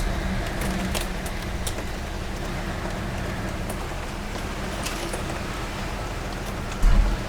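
Dense, steady rain from a storm hammering on an Invacar, a continuous wash of noise with a short louder thump near the end.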